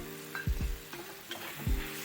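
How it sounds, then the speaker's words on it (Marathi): Asafoetida, red chili powder and turmeric sautéing in hot oil in a pan, a soft sizzle broken by a few low scraping stirs of a spoon, close and quiet with no talk. "व्यवस्थित परतून घेऊया। हिंग टाकूया, लाल तिखट आणि हळद"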